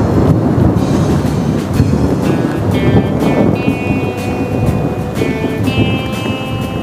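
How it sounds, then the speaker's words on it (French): Heavy rain pours loudly and steadily at an empty campsite during a thunderstorm, with rumbling thunder and a few brief tonal whines over the dense downpour. "Je ne sais pas si vous entendez l'intensité de la pluie."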